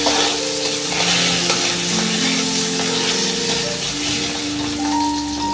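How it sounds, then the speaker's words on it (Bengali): Barramundi (bhetki) fish head frying in hot mustard oil for a taro-greens chochori, a steady close sizzle with some stirring and pan scrapes running throughout, no talking. "সরষে তেলটা দিয়ে দিলাম, দিয়ে এবার কী করবো, মাছের মাথাটাকে ভেজে নেব।"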